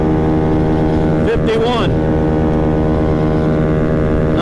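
Modified 50cc Maddog scooter engine held at high RPM, a loud steady buzzing whine close to the listener, with a voice speaking briefly over it.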